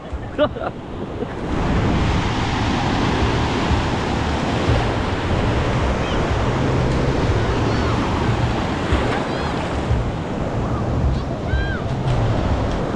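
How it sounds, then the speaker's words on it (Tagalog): Strong ocean waves crash continuously onto a beach, a loud roaring surf mixed with buffeting wind noise on the microphone, with a brief sound before the surge begins and a few faint high tones later. "Palakas yung alon."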